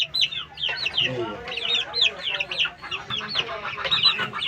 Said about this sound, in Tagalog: Yan ang sisiw namin ngayon. Na maliliit.